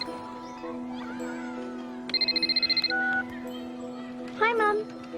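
A telephone rings in a pulsing electronic trill of about ten rapid beats over steady background tones, set in a studio scene where children play pirates, with high chirping sounds following.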